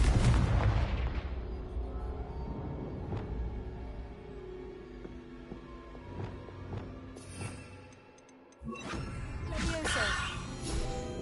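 A Confringo blasting spell in Hogwarts Legacy erupts in a loud booming blast with a rumbling tail, followed by a brief dip and then renewed crackling impacts and magical clatter.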